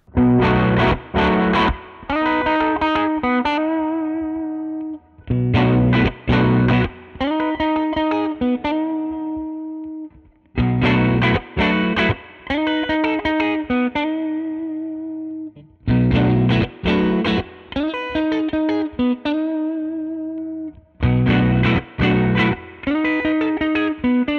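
A Sterling Cutlass CT20 electric guitar through a humbucker plays a heavily distorted repeating riff of chugging chords, thick and saturated, looping several times with brief gaps.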